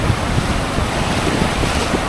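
Strong wind roars steadily at the Baltic seaside at Grzybowo, blending with surf into a loud, continuous rush with no voices.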